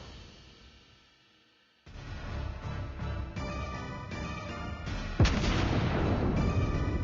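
Warship main guns firing high-explosive shells in the World of Warships Blitz naval game, a sudden loud onset of repeated booming salvos that rumble on, then a sharper heavy blast near the end, with no talking.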